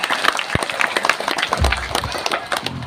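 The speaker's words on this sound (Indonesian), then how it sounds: "Tepuk tangan." Crowd applause with scattered claps at an orphan charity gathering, fairly close and steady, mixed with a sharp thump and some background voices.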